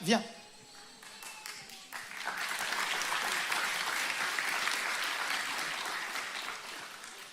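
A church congregation breaks into sustained applause to acclaim the Lord, a broad, steady wash of clapping that swells after a brief spoken moment and carries on to the end.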